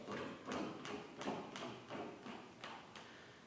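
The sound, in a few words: cello imitating horses' hooves in string orchestra piece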